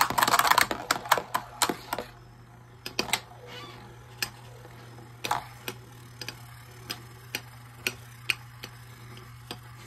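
Beyblade Shogun Steel tops clash inside a plastic stadium, giving a run of sharp, bright ticks and clacks, dense at first and then spaced out, over a steady low hum.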